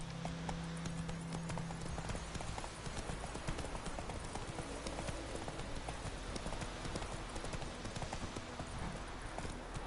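Hooves of Roach, the horse in The Witcher 3 video game, clip-clopping in a steady rapid rhythm throughout, fairly loud against a dense ambient background, with a brief voice early on.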